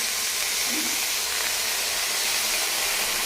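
Washed spinach hits a hot pan and sends up a steady, loud broadband hiss of steam and sizzle that holds evenly for the whole few seconds, with no talking.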